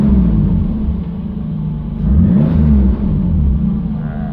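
Mk1 Escort van fitted with a 2JZ GTE VVTi engine idling out of gear, a loud, close, deep rumble that holds steady and swells briefly as the revs rise a little.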